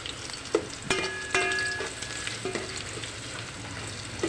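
Ginger frying in a pan for chicken tinola: a soft sizzle with a few sharp utensil clinks and a brief ringing tone near the start, all quiet and close with no voices.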